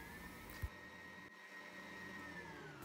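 Electric mixer with a stirring attachment whirs steadily through a cake cream mixture, a constant high motor whine with a brief knock near the start, no talking.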